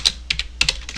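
Quick keystrokes on a computer keyboard while writing Java code in NetBeans, with about eight crisp, close clicks in uneven bursts and nothing else around them.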